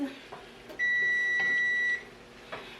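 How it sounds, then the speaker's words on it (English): A kitchen oven gives one long, steady electronic beep lasting about a second, clear and fairly loud over a quiet room with faint background noise, followed by a few soft clicks and bumps. "that's my oven"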